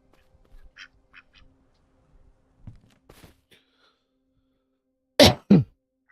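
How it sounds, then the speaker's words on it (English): Geese in the Everwind early-access survival game give two loud, close honking quacks in quick succession near the end, after a stretch of faint soft rustles and small clicks. "Is there a way to tell a difference visually between a male goose and a female goose?"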